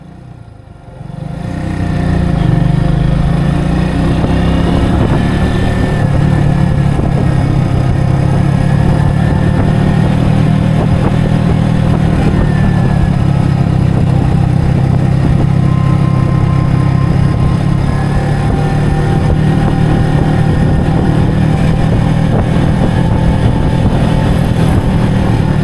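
A Kawasaki W175 motorcycle engine runs while riding on a long trip along Java's southern route. After a brief quiet start, a loud, steady mid-pitched engine drone holds for about twenty-five seconds, with no talking.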